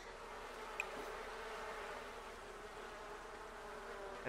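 Buzzing bees in The Sims 4 make a faint, continuous insect drone with no talking.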